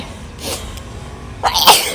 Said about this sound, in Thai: โอ้ยโทษเด้อพี่น้องจาม